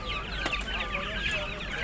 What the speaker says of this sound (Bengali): এখানে দেখতে পাচ্ছি অনেক বিগ সাইজের একটা মোরগ এটা হলো ফাইটার মোরগ